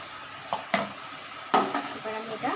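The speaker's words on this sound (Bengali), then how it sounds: "আস্তে আস্তে কষাতে থাকবো" Spice paste for egg tadka being stirred in a pan: a few scraping, clattering strokes of a spoon against the pan over a low sizzle, spaced unevenly and fairly close.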